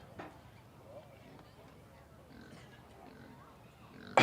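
Berkshire purebred market barrow pigs in the show ring at a county fair junior swine show, giving faint scattered grunts over a low crowd murmur with voices in the background.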